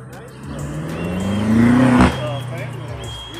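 Fastback car engine at a cars and coffee meet in Martha Rivers Park, Gastonia, North Carolina, rumbling low and steady nearby, swelling as it revs briefly before settling back, with people chatting in the background.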